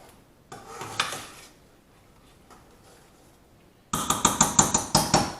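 Stirring parsley into chicken with black limes in a pan gives a few soft scrapes early on, then a quick run of sharp, evenly spaced clinks and taps of a utensil against the pan near the end.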